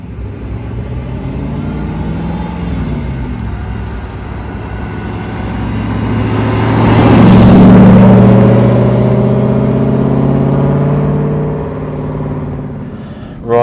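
An Aston Martin V8 Vantage 4.7 pulls away, its engine droning steadily, then swelling into a louder rising rev before easing back to a steady cruise, heard from close by.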